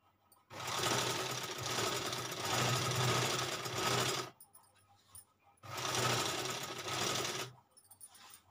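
Sewing machine running a neckline seam close up in two bursts of rapid mechanical stitching, about four seconds and then two seconds, separated by a short pause, with no talk over it.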